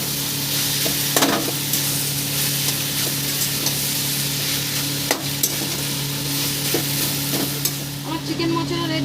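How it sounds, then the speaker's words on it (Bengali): Fried potatoes are stirred into chicken mocha in a frying pan, giving a continuous close sizzle and hiss with occasional scraping and clanking of the spoon against the pan. "এবার আমি ভেজে রাখা আলুটা দিয়ে দেবো। দিয়ে ভালো করে নাড়িয়ে দেবো আমি।"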